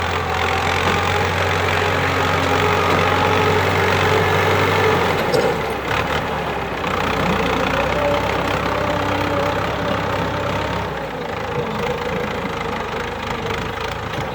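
Ford 6610 tractor engine running steadily at close range, a loud, continuous low diesel drone with a knocking idle throb that shifts slightly partway through, with no talk.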